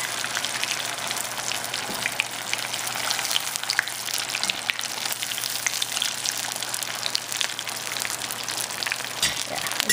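Continuous crackling and sizzling of shrimp tempura frying in hot oil, steady and close, with no talking.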